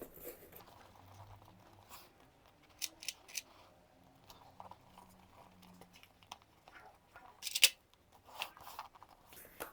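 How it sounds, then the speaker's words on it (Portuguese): Scissors snip fabric all around a sewn glasses organizer piece, giving scattered short, soft cuts and crinkles, close but quiet, with a couple of louder snips partway through. "Vou clipar toda a volta da peça, aqui, este meio e o outro meio aqui."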